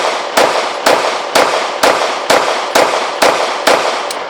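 A Caracal Enhanced F pistol fires nine sharp shots at an outdoor range, spaced evenly about half a second apart, each a loud crack with a short decaying tail.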